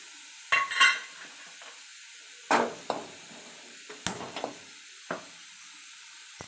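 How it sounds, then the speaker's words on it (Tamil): Garlic frying in oil in a pan, a quiet steady sizzle broken by several sharp clinks and scrapes of a spoon stirring against the metal, close up with no talk. "கொஞ்சம் எண்ணெய் விட்டு வெள்ளைப்பூடை நல்லா எண்ணெயில் வறுத்து எடுத்துக்கலாம்"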